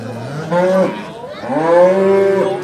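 Black-and-white cattle low at a livestock market in Bokhtar, with two loud, drawn-out moos close by, the second longer and rising, and little other noise.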